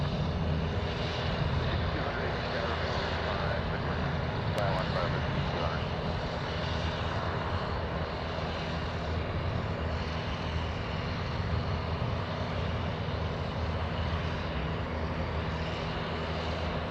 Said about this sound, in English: there goes the F-22